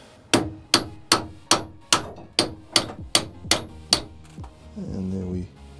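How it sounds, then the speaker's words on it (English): A hammer strikes metal parts of a tower clock's strike train during disassembly: about ten sharp, evenly spaced blows, close and loud, then a brief ringing metallic rattle as a part shifts loose. "Have hammer will use."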